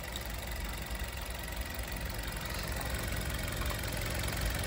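A 2022 Maruti Suzuki Dzire VXi petrol engine idles steadily after starting, a constant mid-level rumble with no talk over it.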